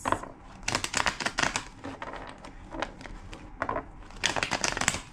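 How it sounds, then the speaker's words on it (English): Tarot cards riffled and shuffled by hand, a run of crisp papery flutters in several bursts, close and moderately loud with short pauses between. "2 more shuffles."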